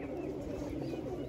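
A pet pigeon being handled gives a soft, close coo against a steady low background hum.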